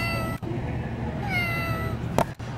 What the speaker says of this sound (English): it's meowing at me.